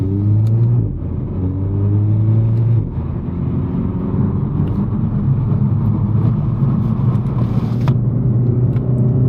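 A Renault Megane RS 300 drives along a favourite road in North Wales, its engine note loud and steady as it accelerates. The tone rises and falls in pitch through the gear changes, and no one speaks.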